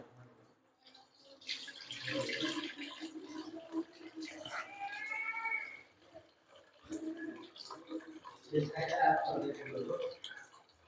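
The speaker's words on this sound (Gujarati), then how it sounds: "પહેલા તો આપણે દૂધને ગાળી નાખીએ" Raw buffalo colostrum milk strained through a cloth or sieve, giving a soft, intermittent trickling and splashing of liquid at close range with voices talking over it.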